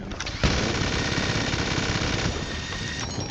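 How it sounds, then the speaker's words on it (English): A minigun roars in one continuous, dense burst of rapid fire lasting about three seconds in the PC version of GTA, loud and close with no pauses. "Now, the minigun is not very effective."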